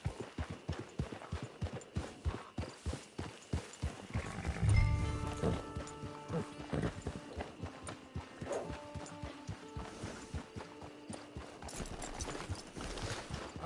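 Steady clip-clop of horse hooves in Red Dead Redemption 2, a close, even walking rhythm with a brief heavier thump partway through and faint ambient game sounds behind.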